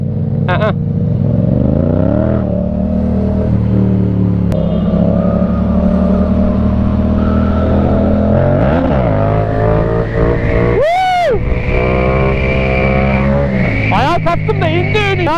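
A Yamaha MT-07 motorcycle engine revs loud and close for the whole stretch, its pitch climbing and falling through gear changes, with brief sharp bursts near the middle and end.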